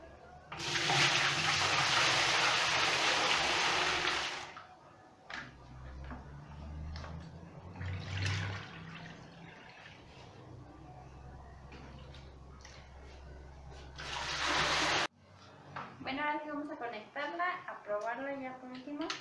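Water from a hose pours into the tub of a Koblenz washing machine, a steady loud rush that stops, then lower splashing and trickling, with a short burst of rushing water and a voice speaking near the end.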